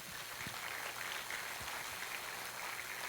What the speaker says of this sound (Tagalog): tuloy natin yung palakpak na yan